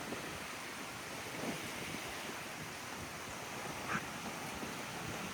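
Wind blows outdoors on Boracay, a steady, soft rushing roar that stays even throughout with slight swells and no voices.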